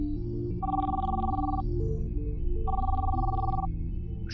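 A telephone rings out while the caller waits for an answer. Two long electronic rings about two seconds apart sound over a low background hum.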